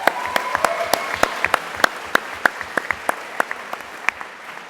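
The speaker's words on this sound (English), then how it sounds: "Let's give her a round of applause." A modest audience at a 2024 economics master's graduation ceremony claps over a soft crowd wash. Sharp, distinct hand claps fall at an uneven pace and stand out clearly throughout.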